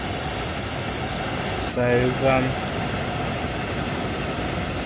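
A passenger train on the South Eastern High Speed line in Train Sim World 2 runs with a constant, loud cabin rumble and whoosh, briefly overlaid by a short chime-like tonal signal midway and a brief spoken word.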